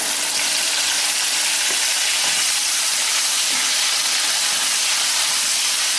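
Tomatoes softening in hot oil for a fenugreek tamarind curry, giving a steady, close sizzle and hiss that runs evenly throughout with no talking.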